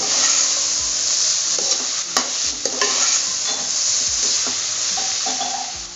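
A spoon stirs spiced masala khichdi in a pot, with scraping strokes and a few sharp knocks against the pot over a constant sizzle, near and fairly loud.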